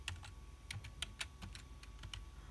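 Keys on a computer keyboard are struck in short, soft, close taps, about ten keystrokes in an uneven rhythm over a faint background hum.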